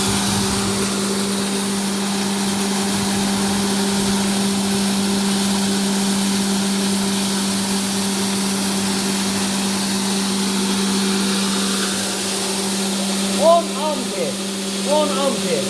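Electric motor of a grass-chopping fodder grinder run from a 220–380 volt inverter, a steady loud whining hum with a strong tonal drone throughout, brief voice-like sounds near the end.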